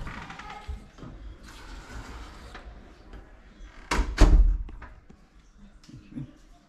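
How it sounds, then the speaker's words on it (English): Hotel room doors onto a balcony in Tenerife are opened and closed, with rustling and handling followed by a louder thud midway and a smaller knock near the end, all close by. "Got some doors that open up to the balcony"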